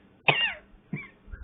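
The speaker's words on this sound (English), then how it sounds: "I just got a coughing fit all of a sudden." Three harsh coughs from a person close by, the first loudest and longest, followed by two shorter bursts about half a second apart.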